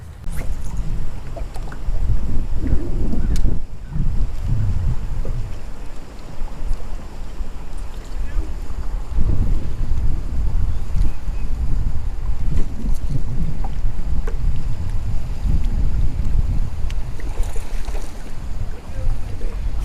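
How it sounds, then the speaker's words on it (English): Strong wind buffeting the microphone while bass fishing from a boat in a canal section, a steady rumbling roar with gusts surging and easing throughout, with no talk. "This wind sucks!"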